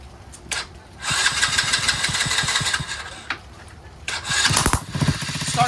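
Small 125cc Tao Tao Chinese ATV quad engine cranking with a starter whir, catching briefly, then firing up and running with a rough, sputtering idle close by, revving up near the end; no voices.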